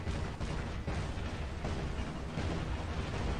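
Gunfire in a video game, heard as a dense, continuous roar of blasts and booming impacts that fills the whole clip at steady loudness, with no speech over it.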